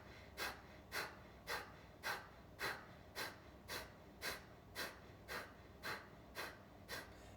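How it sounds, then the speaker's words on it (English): Rhythmic forceful nasal exhales of Kapalabhati breathing, the belly pumping each breath out through the nose: about twelve sharp, evenly spaced puffs of air, close and fairly quiet, with no talking. "begin Kapalabhati here. So use the belly, pump the belly in rhythmically, exhaling through the nose only"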